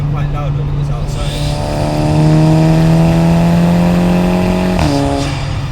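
A small car's engine revs, a steady droning hum that climbs in pitch and loudness around two seconds in, holds there, then drops off sharply near the end.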